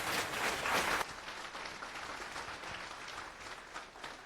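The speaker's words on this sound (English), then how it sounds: "Applause!" Audience at a FOSDEM conference talk applauding two speakers arriving on stage, a dense burst of clapping that peaks in the first second, then settles into softer, steadier applause.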